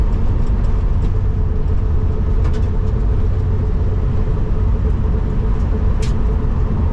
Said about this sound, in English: We're at about 50 now going down the road